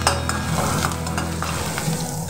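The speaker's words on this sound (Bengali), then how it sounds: "রসুন পেঁয়াজটা ভালো করে ভেজে নেব।" Crushed garlic and chopped onion frying in a pan for lentil dal, a steady close sizzle with occasional stirring scrapes and no voices.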